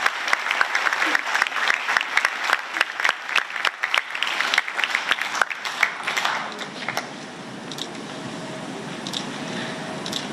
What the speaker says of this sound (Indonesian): Tepuk tangan buat adik-adik sekalian.